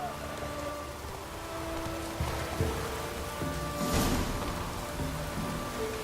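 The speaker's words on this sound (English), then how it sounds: "Looks like rain." Steady rain hisses across an open landscape in The Witcher 3, a continuous wash with soft low rumbles and a brief swell partway through; faint voices murmur beneath it.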